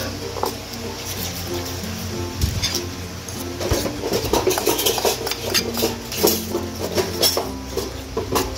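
A utensil stirs and scrapes ampalaya in a pan, irregular clinks and knocks of metal against cookware close by, growing busier toward the end.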